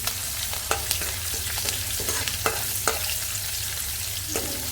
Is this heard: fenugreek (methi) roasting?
yes